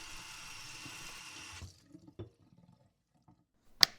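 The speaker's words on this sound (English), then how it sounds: "Then we moisten our leather to prepare it for embossing." Water is applied to a piece of leather before embossing, a soft steady trickle or spray lasting about a second and a half, then a few faint drips and a sharp tap, all quiet and close.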